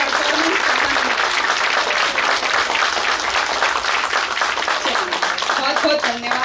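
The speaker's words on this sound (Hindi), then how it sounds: "तालियां नहीं बजाई मतलब बच्चों का परफॉर्मेंस पसंद नहीं" Loud, sustained clapping from a school annual function audience after a children's performance, dense and continuous, with a voice speaking over the applause at times.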